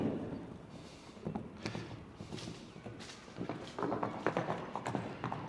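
Hooves clip-clop irregularly on hard ground nearby, faint thuds quickening toward the end, with some soft background noise.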